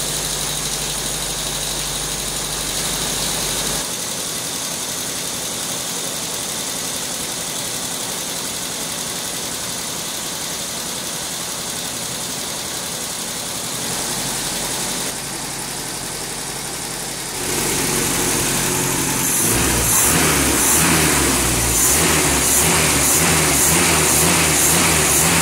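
A carbureted car engine running on Pinga 51 cachaça instead of fuel idles steadily, then picks up and revs harder near the end, loud and close with no voices.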